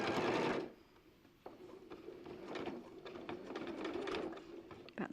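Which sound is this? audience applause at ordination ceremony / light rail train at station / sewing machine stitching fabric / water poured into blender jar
sewing machine stitching fabric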